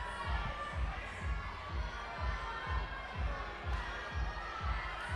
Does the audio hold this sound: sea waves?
no